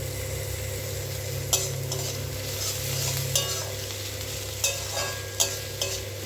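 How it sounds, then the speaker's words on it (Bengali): Chopped ginger and garlic fry in a pan with onions for egg tarka: a constant close sizzle broken by several sharp spatula scrapes and stirs at irregular intervals. "আদা আর রসুনটা ভালো করে ভেজে নিতে হবে।"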